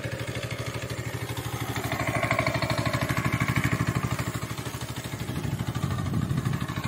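Small engine driving a crop sprayer pump, used for spraying long beans, calamansi and chili plants, runs steadily with a fast, even chugging rhythm close by, swelling slightly in loudness partway through.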